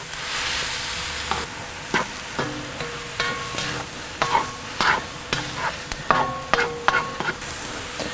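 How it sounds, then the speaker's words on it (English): Beaten eggs cook beside cauliflower fried rice on a Kamado Joe grill, a low steady sizzle under repeated scraping and tapping of a utensil against the cooking surface, close and moderately loud. "We're going to put those in here and cook those over here on the side"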